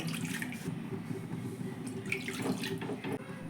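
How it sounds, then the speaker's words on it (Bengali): Two medium bowls of water are poured into a kadai set on a gas stove, a continuous close splashing and gurgling stream with a few brief bursts, no talking. "গ্যাসে একটা কড়াই বসিয়ে দিলাম আর বসিয়ে দেওয়ার পরে এর মধ্যে দিয়ে দেবো জল"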